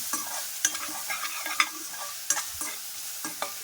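Peanuts sauté in a pan over low heat for a raw tamarind pachadi, giving soft, sparse crackles and a few sharp stirring clicks up close, with no talk.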